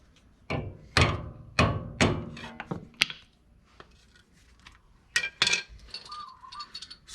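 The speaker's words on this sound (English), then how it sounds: "I'm going to be pounding my pry bar to straighten out the washer" A steel pry bar struck repeatedly with a hammer while straightening a lock washer during inner tie rod work on a 2006 Toyota Tacoma 4x4: sharp metallic clinks in uneven bursts with pauses, close and fairly quiet.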